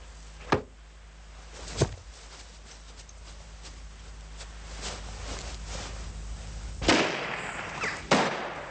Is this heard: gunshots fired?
yes